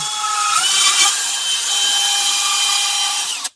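A power drill bores through a flat bottom shower pan, a loud, steady high-pitched whine with a rough grinding edge that holds for over three seconds and then stops abruptly, close up and with no talking.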